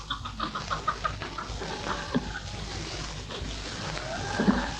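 Several chickens cluck and call in short bursts at close range, with a steady murmur of background noise in a 1950s Georgian comedy film scene.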